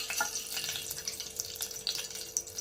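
Cinnamon and cloves sizzle in a couple of spoons of hot oil in a pan for aloo kurma, a steady close crackling hiss with small pops and no talking.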